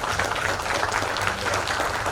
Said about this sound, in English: So big round of applause for